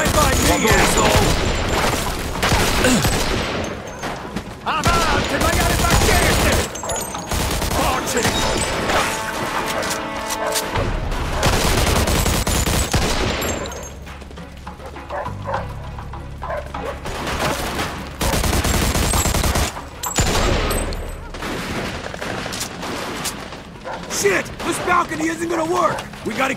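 Video game gunfire rattles in dense bursts of shots and crashing impacts, loud and close, broken by short lulls, with voices talking over the shooting throughout.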